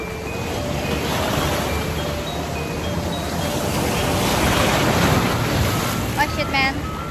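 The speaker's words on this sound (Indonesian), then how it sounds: "Rasanya tuh kalau dengar suara ombak kayak damai aja gitu." Steady roar of ocean surf in Bali washing in, broad and close, with wind buffeting the microphone and a few faint chirping tones near the end.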